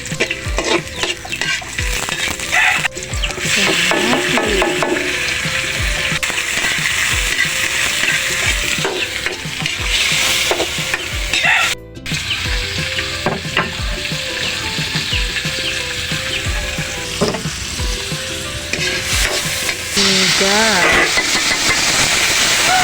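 Garlic and upo (bottle gourd) sizzle loudly in a full pan, with stirring scrapes and a rooster clucking in the background while a person talks intermittently.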